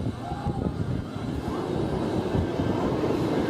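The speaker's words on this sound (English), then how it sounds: "This has got to be the longest Gerstlauer, Eurofighter, or Infinity coaster in North America" A Gerstlauer Eurofighter roller coaster at Adventureland runs along its track, a low rumbling roar with rattling wheels that swells and stays steady, moderately near, with faint voices in the background.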